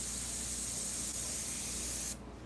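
Steady airbrush-style spray hissing from a paint sprayer while painting ocean waves and reflections, continuous and close for about two seconds before cutting off abruptly.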